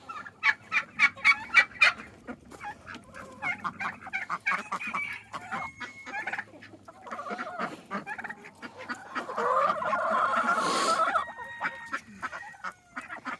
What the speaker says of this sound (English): That is a bourbon red turkey.